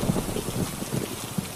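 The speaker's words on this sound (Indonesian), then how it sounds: "Kok kesini hujan cuy, kita berteduh." Rain falls in a Minecraft-style block game, a soft, continuous patter of drops on surfaces, fairly faint and steady over a brief stretch with no talking.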